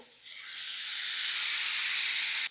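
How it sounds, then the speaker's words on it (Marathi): Peas in a hot pan hiss and steam steadily after a splash of water, a loud, even sizzle rising quickly and holding for about two seconds before cutting off, with no voices. "मटार मिसळून घेतले. थोडासा पाण्याचा हबका मारूया"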